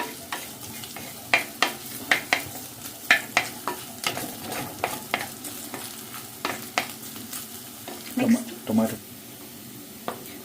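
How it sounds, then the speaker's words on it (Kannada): Onion, green chili, ginger and garlic fry in coconut oil for a Kerala-style fish dish, with a steady sizzle broken by sharp scraping stir strokes and a few louder clatters near the end, under occasional faint voices. "ನೆಕ್ಸ್ಟು ಕಟ್ ಮಾಡ್ಕೊಂಡಿರೋ ಈರುಳ್ಳಿ ಗ್ರೀನ್ ಚಿಲ್ಲಿ ಈ ಶುಂಠಿ ಬೆಳ್ಳುಳ್ಳಿ ಹಾಕಿರ್ತೀವಲ್ವ ಅದು ಚೆನ್ನಾಗಿ ಫ್ರೈ ಆಗಬೇಕು"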